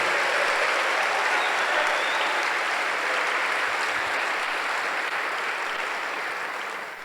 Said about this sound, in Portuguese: Então dá um aplauso bem forte a Jesus.